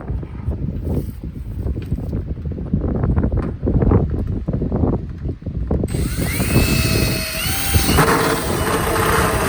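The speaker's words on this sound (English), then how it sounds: "So I'm going to drill about right here." A power drill boring through a plastic rain barrel, grinding and rough at first, then a whining high-pitched spin as the bit breaks through, loud and close with no talking.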